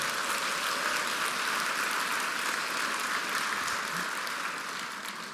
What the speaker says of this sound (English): So give Scott another round of applause.